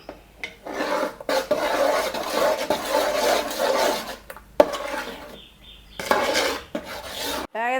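A spoon scrapes and stirs melting butter in a large pot while making traditional homemade ghee, a close, rasping, continuous scraping with brief pauses and a few metallic knocks.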